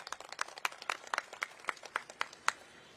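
Scattered clapping at a political rally in Uttar Pradesh during a padyatra, a dozen or so sharp distinct claps from a small group, fairly close and unevenly spaced.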